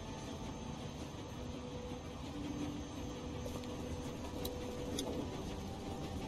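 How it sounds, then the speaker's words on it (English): A moving train in The Walking Dead video game, heard as a steady, fairly quiet rolling rumble with a faint metallic clatter and no one talking. "We need to stop this train."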